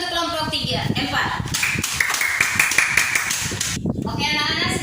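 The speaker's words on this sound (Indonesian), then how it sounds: "Oke, tepuk tangan untuk kelompok 4." A class of schoolchildren claps for a group after its magnet experiment, a dense burst of small hands applauding close by with children's voices chattering underneath.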